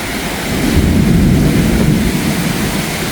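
A sudden storm in Izmir: a steady, loud roar of thunder and rain-driven wind rumbles low and continuous for about three seconds, swelling slightly after the first half-second, with no voices.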